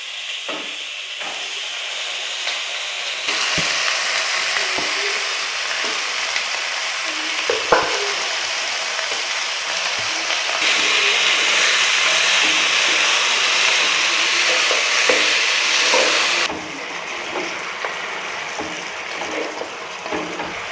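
Chicken sizzles loudly in a pan with softened onions and curry leaves, a steady bright frying hiss that swells when the meat goes in, with occasional scrapes and stirs.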